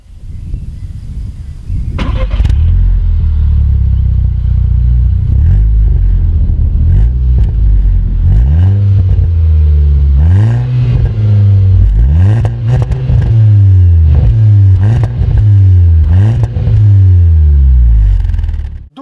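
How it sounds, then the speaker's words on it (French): A Volkswagen Golf 6 R with its 2-litre four-cylinder engine rated at 270 hp starts up, then gives a series of sharp, repeated revs. Each rev climbs and falls close by and loud, with no talking. "vous aurez vraiment un son optimal et puis vous pourrez avoir un avis sur cette petite Golf R"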